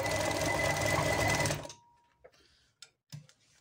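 A Brother industrial sewing machine runs loud and steady with a fast, even mechanical hum, then stops abruptly, leaving a few faint clicks and knocks.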